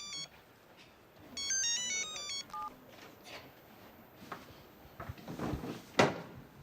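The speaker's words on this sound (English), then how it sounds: "it is my phone. I know you know it is a phone. But it is ringing" A mobile phone rings with a bright electronic melody of repeated tones, followed by scattered knocks and clatter nearby, with no one speaking over it.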